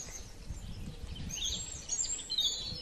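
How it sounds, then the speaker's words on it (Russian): Birds twittering and chirping at dusk near a small house beside a stadium, a steady faint chorus of high calls running through the whole stretch with low background rumble. "Слушайте, как птички поют."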